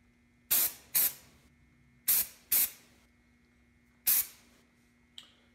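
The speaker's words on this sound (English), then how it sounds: "I'm just going to take the bolt and, using the aerosol can," An aerosol can sprays lubricant onto a Savage 93R17 rifle bolt in five sharp, loud hissing bursts, some in quick pairs, then a brief faint puff at the end, with no talking.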